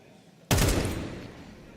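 A sudden burst of gunfire in a Counter-Strike 2 match at IEM Cologne, with shots clustered at once and a decaying tail under a caster's voice.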